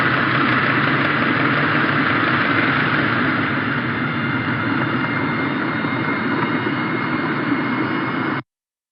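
A ship's engine recorded underwater in the ocean, a steady, loud broadband rumble and hiss that holds constant for about eight seconds before cutting off abruptly.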